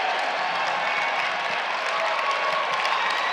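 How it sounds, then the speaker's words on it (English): Steady, dense applause and cheering from a crowd on its feet at a high school boys varsity basketball game between Belmont and Beverly, loud and continuous throughout with no pauses. "The crowd is on their feet for the Panthers."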